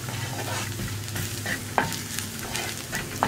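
Turmeric powder and carrots for a carrot and drumstick-leaf thoran stir-fried in a hot pan, with a steady sizzle and intermittent scraping of the spatula throughout, close and alone.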